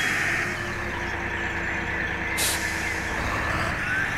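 A tractor-trailer truck turns in a driving simulator game: a steady, close engine rumble fills the clip, with a brief hiss like an air brake partway through.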